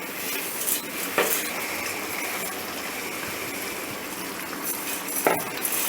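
Roasted vermicelli poured into a pot of boiling water for a vegetable biryani vermicelli dish, giving a steady close bubbling hiss with a few sharp clinks of a utensil against the pot.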